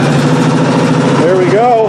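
A John Deere D110 lawn tractor engine running steadily at close range, a continuous mid-low drone that rises slightly in pitch toward the end, under people talking.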